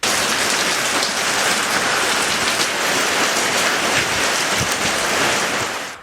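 Heavy rain pours down in wind at Kallamala, Attappadi, a loud, dense and unbroken roar of drops close by with no voices over it.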